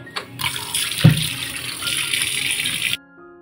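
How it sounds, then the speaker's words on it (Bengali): Tap water running to soak fish in a home kitchen, a steady close splashing gush that starts after a brief knock, runs for a few seconds, then stops abruptly. "কখন বলবে কখন রান্না করবে, জলে ভিজিয়ে রাখি আগে।"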